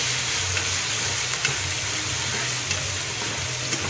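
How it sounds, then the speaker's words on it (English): Fresh tomatoes sizzle steadily in a hot pan while being stirred, a continuous close frying hiss with faint scrapes, for a chicken afritada dish; no one speaks. "Stir and allow the tomatoes to wilt."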